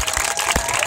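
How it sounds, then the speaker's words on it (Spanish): Brief applause from a crowd at a community rally against police checkpoints: about one second of dense, fairly loud clapping. "Si le podemos dar un aplauso,"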